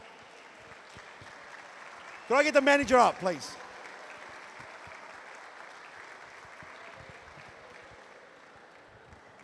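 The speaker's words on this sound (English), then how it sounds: "Big round of applause to them" At a men's grand final football presentation, a crowd claps softly in the distance, a faint steady patter running under the whole stretch, interrupted midway by a short spoken request over a loudspeaker.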